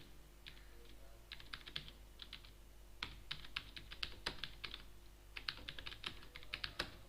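Computer keyboard typing while writing Arabic text with diacritics, soft quick key clicks in irregular bursts with short pauses, close and quiet against a low steady hum.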